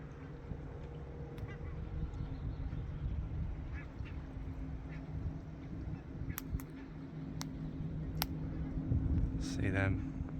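Duck-like birds quack and honk from behind trees near water in Vyborg, scattered calls at a distance over a steady low rumble, with a burst of rapid quacking toward the end.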